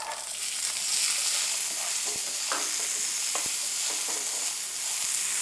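Boiled white peas sizzle in a pan with coconut, a soft steady frying hiss broken by a few sharp scrapes and taps as a spoon stirs them, close and fairly quiet.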